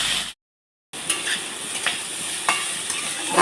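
Fried rice sizzles in a hot pan with steady frying hiss and repeated spatula stirring scrapes, close and continuous after a brief silent gap.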